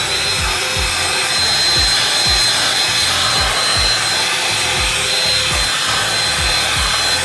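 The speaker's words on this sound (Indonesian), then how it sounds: "oh ni pun aku nak kena vacuum kat ni," A vacuum cleaner drones loudly and steadily while cleaning a dusty car interior, with rhythmic rubbing and scraping strokes repeating under the motor whine.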